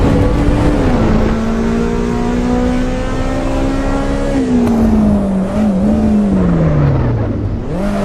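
A race car engine in the Assetto Corsa Evo racing game roars loudly up close, holding a high rev before dropping in pitch through a downshift, with a brief rise and fall near the end.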